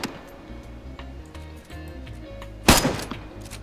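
A single sharp gunshot in the DayZ video game, fired at a cow, cracks out loudly near the end, over a steady backdrop of faint ticking game ambience.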